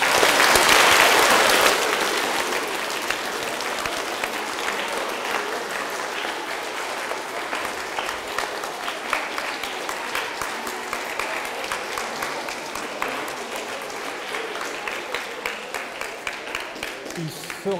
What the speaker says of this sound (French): Je vous demande de l'applaudir, s'il vous plaît, bien fort.